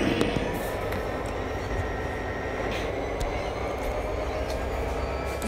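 An electric commuter train runs in the Trainz 2009 simulator game, giving a steady, even rolling hum and motor drone with faint clicks, heard alone without talk.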